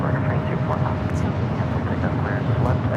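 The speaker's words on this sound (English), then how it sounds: "This is United Airlines 215 coming in from Austin, Texas" A United Airlines Boeing 737-800 coming in to land at LAX, arriving from Austin, Texas, produces a continuous loud, low jet roar that holds steady and fills the whole stretch.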